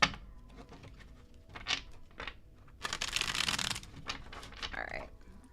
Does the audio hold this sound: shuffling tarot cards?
yes